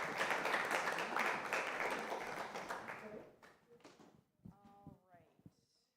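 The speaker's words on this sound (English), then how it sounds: "You can go ahead and clap for them." An audience applauds musicians at a Sunday church celebration with a dense, steady patter of clapping that fades after about three seconds, giving way to a speaking voice.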